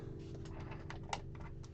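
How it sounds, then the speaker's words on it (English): Rapid keystrokes on a Gundam-themed computer keyboard, a steady irregular clatter of key presses close to the mic with one sharper click standing out, over a low hum and no talking. "I got a Gundam keyboard."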